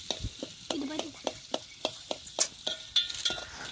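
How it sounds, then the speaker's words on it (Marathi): Chopped onion fries in a pan while a spoon stirs it briskly. Quick scraping strokes come at a steady rhythm of roughly three per second over a soft, low sizzle. "तर आपण आता कांदा चांगला परतून घेऊ"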